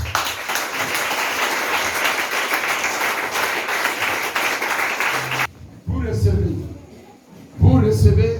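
Church congregation applauding Jesus during a French-language worship service, broadband clapping held steady and loud for about five seconds, then cut off and followed by voices speaking and calling out.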